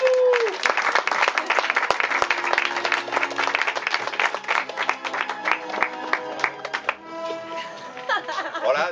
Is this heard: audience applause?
yes